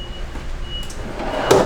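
A Vitrofrigo refrigerator drawer aboard an Island Packet 439 sailing yacht slides and bumps shut, a soft, close thud near the end of a quiet interior hum.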